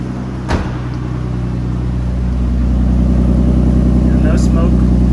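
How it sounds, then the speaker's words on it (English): A Nissan R34 Skyline coupe with an automatic turbo engine idles steadily just after a cold start, a constant low hum with a brief knock near the start and a speaking voice over it. "even with the cold start, the RPMs are holding fine"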